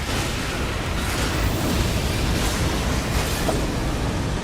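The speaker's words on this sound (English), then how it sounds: "There was apparently an explosion underneath the rocks" A loud, sustained explosive rumble beneath rocks in the video game Elden Ring Nightreign, a dense continuous roar filling the whole stretch with no talk over it.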